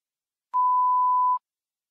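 A single steady electronic beep tone in a listening exam, held for under a second, loud and alone in silence.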